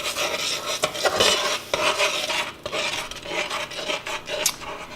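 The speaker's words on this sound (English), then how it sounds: "you're going to add the melted butter, stir it in until the butter melts and combines really good with the sugar mixture" Stirring melted butter into a sugar mixture in a saucepan, producing a continuous scraping, rasping sound with uneven strokes, close and fairly loud, with no voices.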